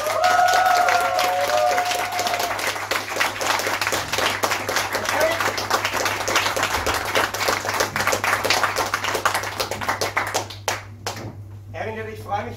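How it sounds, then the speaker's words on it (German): A live audience at a short-film evening applauds voice actor Erwin Leder, who dubbed Engelbert Dollfuß; steady, dense clapping fills the room for about ten seconds, thinning toward the end as voices come in. "Aber jetzt einmal einen riesengroßen Applaus für den Synchronsprecher von Engelbert Dollfuß, Erwin Leder!"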